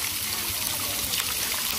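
Water flows in a small stream, a steady close rushing trickle that stays even and continuous throughout with no voices.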